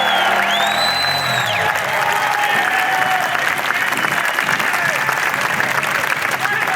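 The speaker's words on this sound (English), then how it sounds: "Can I get a big cheer for those members?" A protest crowd at an anti-abortion rally applauds and cheers in sustained, dense clapping with a few whistles and whoops, loud and close throughout.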